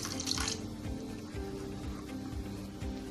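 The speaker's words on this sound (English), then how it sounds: "Now let's start adding some water and mix it together." Water pours into a cooking batter that is stirred at a steady rhythm, giving close, wet sloshing and splashing strokes about twice a second.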